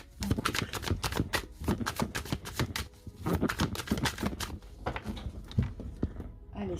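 A tarot card deck is cut and shuffled up close, producing rapid bursts of papery riffling and flicking with brief pauses between passes, loud and alone.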